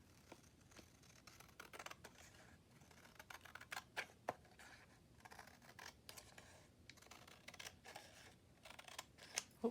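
Scissors trimming paper for a handmade ephemera pocket pouch: quiet, close snips and scratchy cuts in an irregular run, with soft rustling between them and no voices.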